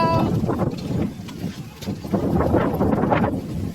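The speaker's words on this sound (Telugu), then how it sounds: "చూడండి ఎంత గాలి, చెట్లన్నీ ఊగిపోతున్నాయి" Strong gusts of wind rushing through village trees, a loud continuous roar with rustling surges and buffeting against the microphone, rising and falling over several seconds.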